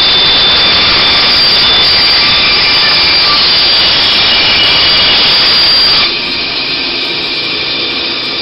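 Power saw cutting an arc in a wooden chair back leg. A loud, steady, high-pitched whine runs close by, then drops sharply as the cut ends and the blade runs on more quietly, with no voices.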